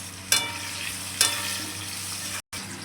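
Potatoes with a little salt fry in hot oil in a continuous close sizzle, cut by two short scraping bursts of stirring and a brief drop to silence near the end.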